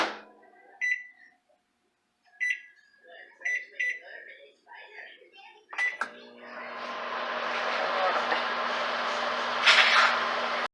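A microwave oven's keypad gives several short beeps, then the oven starts on high power with a click and settles into a steady, loud electrical hum with a rushing fan noise.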